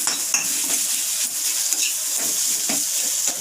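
Turmeric, chilli and cumin powders are stirred in a frying pan, with a constant close sizzle and scattered scrapes and clinks of a utensil against the pan, and no one speaking.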